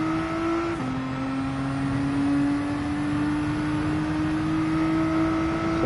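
A race car engine in Gran Turismo 7 holds a loud, sustained drone, with a quick pitch drop at a gear change and then a steady climb as it revs out in fourth.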